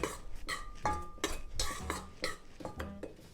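Dry yeast being stirred into flour in a bowl for cinnamon rolls, heard as a series of quick scraping, clinking strokes of a utensil against the bowl, close and fairly quiet, with no talking.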